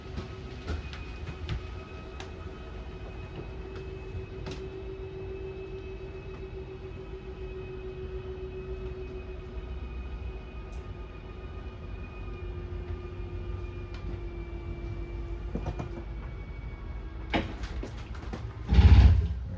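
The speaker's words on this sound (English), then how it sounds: "The slide will make its way out." A steady mechanical motor hum with a faint whine as a 2022 Forest River Avenger 26DBSLE travel trailer's slide-out extends, then a few sharp clicks as the motors stall and a thump near the end.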